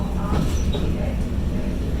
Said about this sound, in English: This is an Orange Line train to downtown.